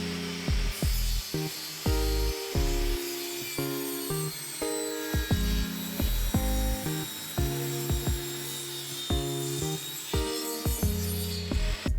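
A power saw rips a wooden plunger lengthwise for a homemade can crusher, with repeated cuts that rise and drop into whining tool noise, separated by short pauses, loud and close.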